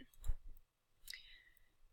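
A computer mouse clicks a few times, faint and close, while the quick selection tool is used in Photoshop, with quiet room noise between the clicks.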